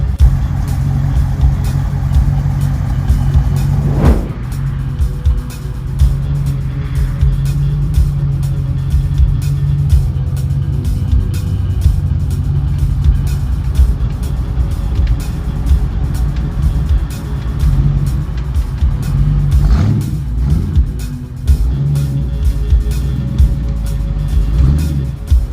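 A Lamborghini Countach replica drives at dusk with a steady, loud engine rumble close by. Two brief sharper bursts of revving stand out over the continuous drone, with no talk.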